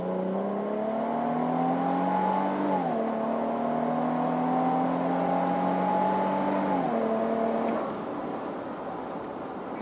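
A 2026 Nissan Armada NISMO SUV with a NISMO-tuned exhaust accelerates hard in sport mode. The engine drone climbs steadily in pitch, drops with two gear shifts and climbs again, then eases off near the end.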